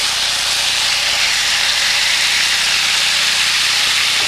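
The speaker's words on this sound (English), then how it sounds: "take your swordfish, and put it on the hot grill. Oh, listen to that sizzle." A steady, loud sizzle of swordfish searing on a hot electric grill, continuous broadband hiss with no pauses and no talking.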